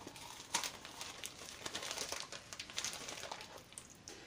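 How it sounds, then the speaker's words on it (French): Gift packaging being torn open, a dense rustling and crinkling of paper and plastic that runs close and steady for a few seconds with small sharp rips. "Je déchire tout"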